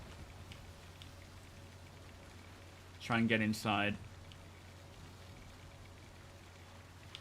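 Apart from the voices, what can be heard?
rain falling in Star Citizen video game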